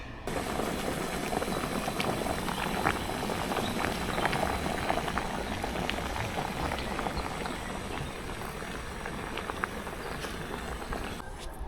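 Potatoes boil in a pot outdoors at an allotment garden, a steady close bubbling and rolling simmer that continues evenly throughout.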